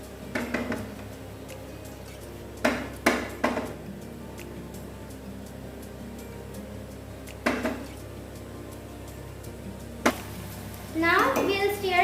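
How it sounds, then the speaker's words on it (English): A spoon knocks and scrapes against a cooking pot while tadka is stirred for mutton biriyani and veg pulao, several sharp clanks spread apart, with a brief sizzle or clatter near the end. "We'll stir the tadka again."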